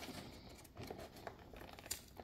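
Cardboard and plastic packaging of a Pokémon Obsidian Flames Elite Trainer Box being opened, giving faint, close crinkling and light tearing rustles in short irregular bursts with no talking.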